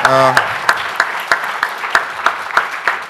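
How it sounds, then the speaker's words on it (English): An audience at an innovation and industry event applauds, with a burst of claps tapering into scattered, rhythmic single claps, while a voice speaks briefly at the start. "Can we have another round of applause?"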